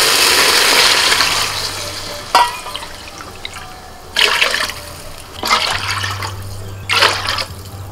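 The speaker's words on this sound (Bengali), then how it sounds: "এবার এই বাটির মাপে আমি জল দিয়ে দিচ্ছি।" Water poured from a bowl into a pot for cooking Gobindobhog rice pulao, a steady splashing pour with several brief louder gushes as more bowlfuls go in, close and fairly loud, with no talk.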